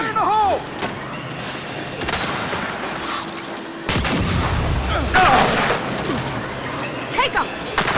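A grenade blast in Gears 5 lands with a heavy boom partway through, amid ongoing gunfire, thuds and combat noise, with shouted voices over the battle.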